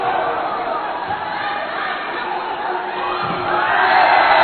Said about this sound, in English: Crowd are into this booing.